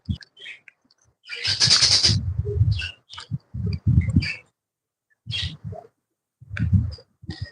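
A pet bird gives several harsh, raspy squawks and chattering calls in short bursts, close by, with brief quiet gaps between them.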